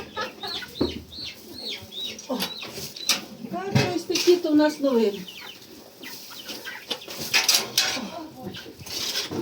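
Young chicks cluck and chirp in short, busy bursts close by, with occasional wing flapping, while people talk over them.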